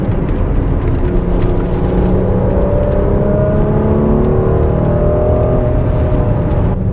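Mercedes-AMG GLC43 SUV engine pulling hard under acceleration on a road drive, a loud continuous rising engine note with climbing harmonics and steady road roar throughout, no talking.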